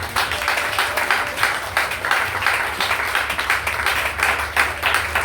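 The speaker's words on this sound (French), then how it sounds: "Acclamez ce nom de Jésus." A church congregation claps in a steady rhythmic beat with cheering voices, loud and close, filling the room continuously.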